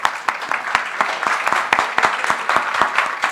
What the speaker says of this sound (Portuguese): Eu pedi uma salva de palmas para a Marina